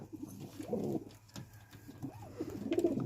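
Pigeon chicks in a nest give soft, close cooing calls in a few short, throaty bursts against a quiet background.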